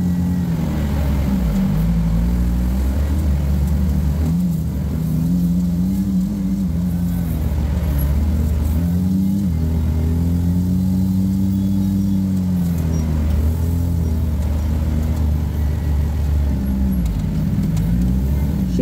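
An off-road rig on a new setup crawls over rocks on a trail. The engine rumbles low and steady for the whole stretch, with revs swelling and easing as it climbs, alone and close.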